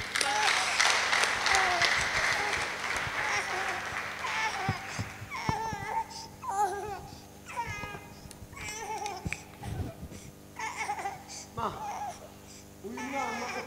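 Congregation in a church during a prayer and fasting service claps briefly, then the sound gives way to murmuring voices, a crying baby and scattered noises.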